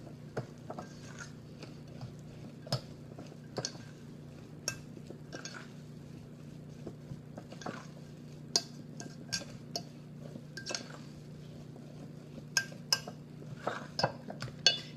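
A spoon folds shredded cheese and chopped green onions into thick breakfast muffin batter, making soft scraping and intermittent light clinks against a bowl over a steady low hum, with no talk.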